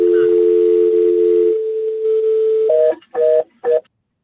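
Telephone dial tone from a caller joining a meeting by phone: a loud steady tone that shifts pitch, then three short repeated beeps before it cuts out.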